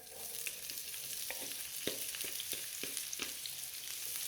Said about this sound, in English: I've just added a little bit of olive oil in the fry pan here. To the fry pan, I'm just going to add the onion.